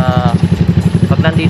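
A Yamaha Mio 63BV 199cc motorcycle with an M3 Sharktip exhaust pipe idles close by, its loud, throbbing exhaust pulsing in a steady, rapid rhythm with a brief higher rev note near the start.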